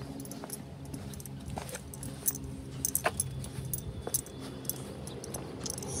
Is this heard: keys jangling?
yes